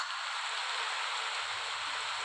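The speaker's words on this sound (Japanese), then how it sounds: "坊や、聞いて。 これが雨の音よ。" Steady rain from the video game Honkai: Star Rail, a dense, even hiss of falling water that stays loud and unbroken throughout, with no voices over it.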